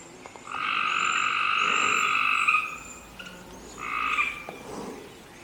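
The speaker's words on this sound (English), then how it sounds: "Hear you, frogs." Frogs croak in long, buzzing trills, a loud sustained chorus that pauses and then resumes with shorter calls, with no one talking.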